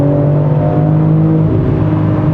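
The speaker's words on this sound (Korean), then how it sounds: "엔진의 회전 질감도 질감이지만 이 배기에서 느껴지는 사운드" BMW M3 Touring Competition xDrive engine held at raised revs after a downshift, its dual variable exhaust giving a steady, loud, close drone with deep layered harmonics that holds level throughout, with no talking.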